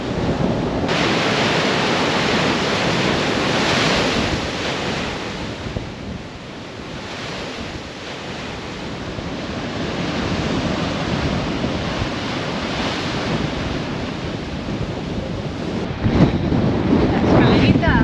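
Ocean waves crash against rocks on a beach at Jericoacoara in Ceará, Brazil, a continuous loud roar of surf with surging swells, heavy wind buffeting the microphone and a sharper splash near the end.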